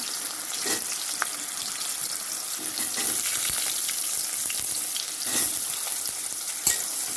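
Food frying in a pan, a dense even hiss of sizzling oil with a few faint clicks of utensils, steady and close, no one talking.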